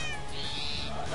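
A cat meows once in the Minecraft video game, a short, faint, high call lasting under a second. Muffled talk sits quietly underneath it.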